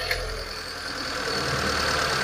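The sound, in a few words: 2006 Mitsubishi engine revving up slowly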